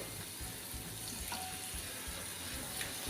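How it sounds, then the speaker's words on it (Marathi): Water added to a spice masala in a pan for a fish roe mince dish, a continuous hissing, bubbling wash of sound throughout, close and fairly loud. "आता ह्यामध्ये आपल्याला थोडंसं अगदी पाणी घालायचं आहे आणि मिक्स करून घ्यायचं आहे"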